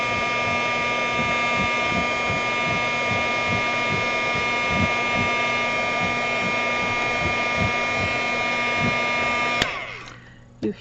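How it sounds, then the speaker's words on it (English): A heat gun blows with a loud, steady whine and roar on a stuck metal jar lid, running continuously before cutting off abruptly, followed by brief handling noise. "If you can't get a jar open, use your heat gun. Heat up the lid and it opens really easy."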